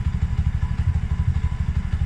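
A Bajaj EFI three-wheeler engine idles steadily at roughly 1400–1500 RPM, giving a close, even, rapid low-pitched putter with a slight clatter and no talking.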